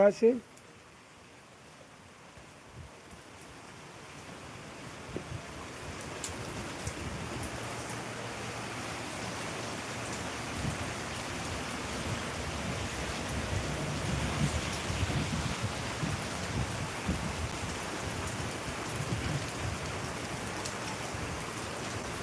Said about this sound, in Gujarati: આજે વરસાદ વરસી રહ્યો છે તેના દ્રશ્યો બતાવવામાં આવી